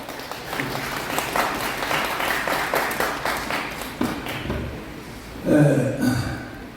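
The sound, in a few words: applause welcoming speaker at press conference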